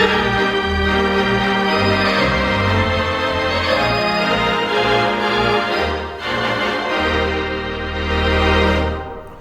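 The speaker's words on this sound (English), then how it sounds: "all put together, you've got a proper Wurlitzer sound" A Wurlitzer theatre organ at the Granada in Slough plays with full registration, sustained rich chords over deep pedal bass notes that shift every few seconds, loud and continuous with a slight swell near the end.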